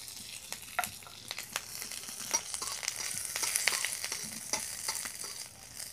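Garlic and green chillies fry in hot oil in a wok, giving a steady, close sizzle dotted with small crackles and pops throughout.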